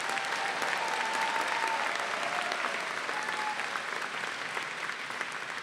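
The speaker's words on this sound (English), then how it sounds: "Give our graduates a round of applause" A large crowd at a 2015 spring graduate commencement ceremony applauds the graduates, a broad, even wash of clapping that holds steady throughout and fades slightly toward the end.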